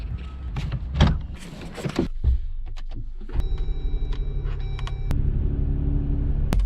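A Jeep rolls and rumbles over a bump coming off a driveway, with a few clunks and thumps, then a steady engine hum continues close by.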